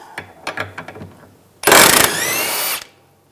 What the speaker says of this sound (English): We're going to take that nut off. Use a 16mm socket.